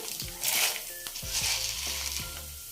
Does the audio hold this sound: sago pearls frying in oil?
yes